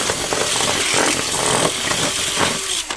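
A power drill bores continuously into the fragile printed support structure of a large 40-inch Planet of the Apes Icarus spaceship model, a steady close whirring grind lasting throughout, with no talking.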